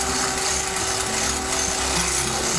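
A power tool grinds steadily as it cleans up a freshly drilled hole in metal while fitting a cargo buckle to a Dodge Ram contractor lumber rack, giving a loud, continuous, unbroken whir close by.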